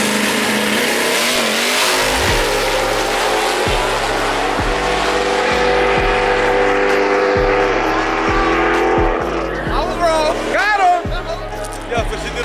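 A supercharged Dodge Hellcat called Novacain revs hard in repeated sharp bursts at a tuning session, its engine note climbing and dropping loud and close while people talk over it.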